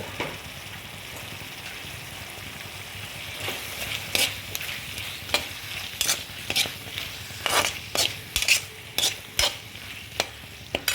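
Capsicum and square-cut onion stir-frying with soya chunks in a pan, a steady soft sizzle broken by repeated sharp scraping and stirring knocks of a spatula, close and clear with no talking.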